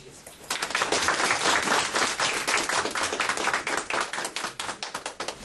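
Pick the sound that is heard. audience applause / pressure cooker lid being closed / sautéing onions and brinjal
audience applause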